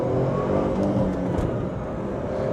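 A Tata Tiago JTP's engine revs hard under throttle while driving, a loud, steady, dense drone with slight swells and no voices.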